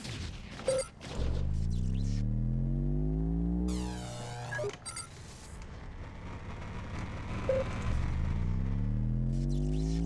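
An in-game vehicle from Hostile Waters: Antaeus Rising drives with a steady, loud engine drone whose pitch climbs and falls as it accelerates, broken by a few sharp impacts and bursts of noise.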